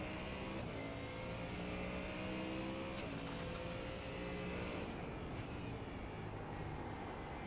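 A Ford Mustang race car on a road course drones steadily, engine note rising and falling through shifts at moderate distance, constant and unbroken throughout.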